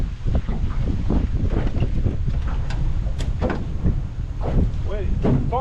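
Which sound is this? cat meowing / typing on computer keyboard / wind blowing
wind blowing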